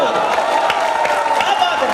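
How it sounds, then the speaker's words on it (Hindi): A crowd at a Hindi kavi sammelan poetry gathering in Vidisha claps and cheers, a dense, loud wash of applause with a voice ringing over it throughout. "ये तालियां गूंजनी चाहिए वहां तक।"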